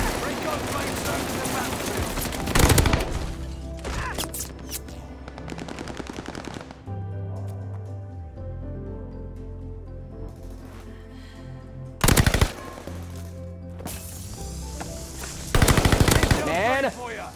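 Video game gunfire with a double shotgun: several loud, sharp blasts, some in quick bursts, separated by quieter stretches of tonal game sounds and music.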